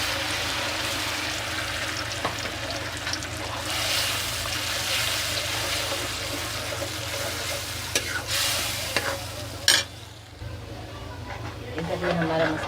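Pumpkin kofta pakoras frying in a kadhai of hot oil, a steady broadband sizzle with occasional stirring clinks, close and continuous throughout.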